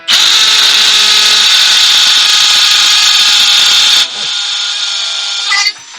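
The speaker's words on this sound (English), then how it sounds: "It drills through, not into the mortar sealed tops. You know, it's probably because I got this little drill." A small power drill bores holes into cinder blocks for crawlspace foam board, a loud close whine held steadily for about four seconds, then easing to a lower-pitched spin before stopping.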